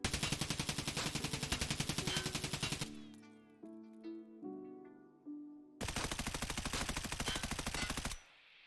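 Rapid automatic bursts from a SCAR and then an M4 rifle in Escape from Tarkov, two long sustained strings of shots separated by ringing casing and mechanical clinks, loud and close.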